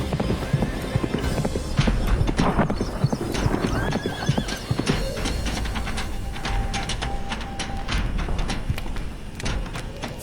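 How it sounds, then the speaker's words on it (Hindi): A horse carrying a king gallops away with steady clip-clop hooves and an occasional whinny, loud and close throughout, with background music or ambience underneath. "बड़े महाराज तुरंत घोड़े पे सवार उन ऋषि मुनि के पास पहुंच जाते हैं"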